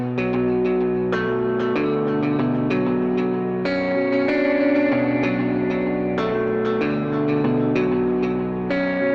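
Guitar through the Voyager Guitar plugin on its Sustain's Midwest Scene 2001 preset: a steady run of picked, chiming notes and chords washed in echo, chorus and reverb, playing alone without voices.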